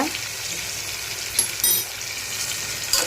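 Ginger garlic paste sizzling in a hot pan, a steady close crackle with a few brief stirring clatters and no talking.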